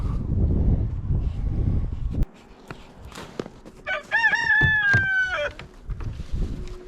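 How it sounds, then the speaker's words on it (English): A single rooster crow rings out mid-way, a harmonic, drawn-out call after a rumbling stretch ends, with faint scattered knocks and background noise around it. "That's the first crow."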